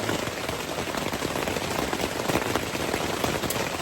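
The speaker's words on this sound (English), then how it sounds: "It's been raining pretty good." Steady rain falls on the Appalachian Trail, a dense, even hiss of drops pattering on surfaces nearby, constant and loud throughout with no talking.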